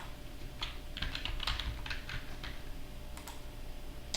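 Password being typed on a computer keyboard, a quick run of light key clicks in uneven bursts, close and clear over a faint room hum, no voices.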